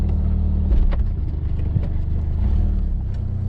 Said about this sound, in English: So off we go in the family truckster.